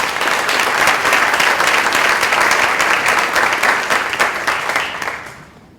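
A seated audience at a seniors' talent show applauds the judges, steady full clapping that stays loud for several seconds and then tapers off and fades near the end.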